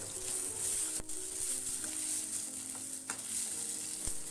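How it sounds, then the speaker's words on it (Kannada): Chopped onions and tomatoes frying in a pan until soft for a mushroom gravy, with a steady close sizzle broken by a few sharp utensil knocks against the pan. "ಇವಾಗ ಟೊಮೆಟೊ ಎಲ್ಲ ಮೆತ್ತಗಾಗುವವರೆಗೂ ಚೆನ್ನಾಗಿ ಫ್ರೈ ಮಾಡ್ಕೊಳ್ಳಿ."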